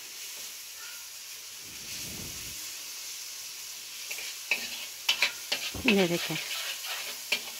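Masala frying in oil in a pan, a continuous soft sizzle that grows livelier as it is stirred, with several scraping strokes near the end and a brief voice speaking over it.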